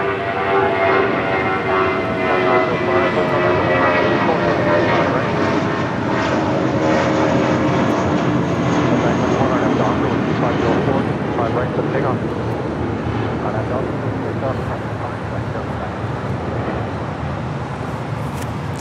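A heavy Boeing 787 Dreamliner lands at Los Angeles International Airport, a broad, steady roar of engine and air noise lasting throughout, moderately loud and fading only slightly toward the end.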